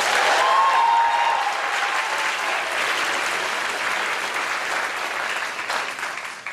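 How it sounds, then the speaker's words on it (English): Sustained applause from a graduation ceremony crowd, a dense, even wash of clapping that holds for several seconds and slowly fades, with no talk over it. "So let's give them a big round of applause."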